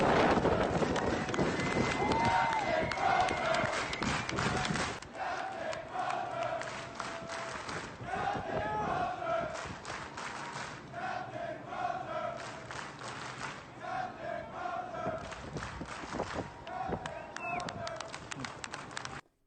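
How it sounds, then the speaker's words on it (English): Cheering and shouting from a dense crowd as a relieved ship's captain walks down the brow off his ship. The roar stays steady and close throughout, with voices calling out over a continuous wash of crowd noise. "you can hear the crowd"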